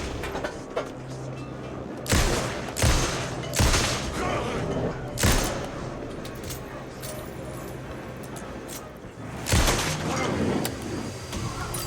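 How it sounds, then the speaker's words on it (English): Bursts of dark, explosive energy from Alan Wake II gameplay, several loud broadband blasts spaced irregularly over a constant low rumble and clatter. "See that exploding darkness?"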